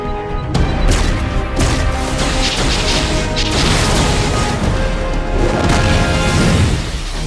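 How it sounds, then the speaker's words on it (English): Loud, continuous barrage of artillery explosions with crashing booms and bursts in a DC Universe Online cinematic trailer, layered over a dense orchestral score. "while I call down some artillery"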